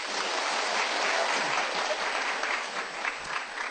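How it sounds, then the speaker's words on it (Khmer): A crowd at a lively performance breaks into dense, sustained applause, loud and close, filling the whole stretch with even clapping. "សុំផ្ទះដៃឲ្យខ្លាំង"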